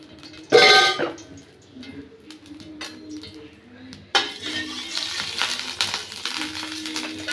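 Oil is added to a cooking pan for dal: a sharp metallic clank early on, then a steady crackling sizzle from the pan.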